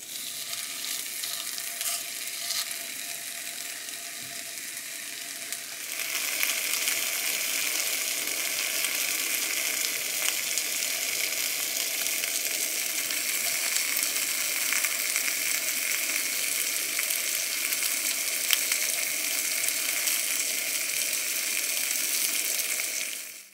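Homemade cured and smoked bacon frying in a pan, a dense continuous sizzle that starts quieter and then jumps to a louder, steady hiss with scattered crackles for the rest of the stretch.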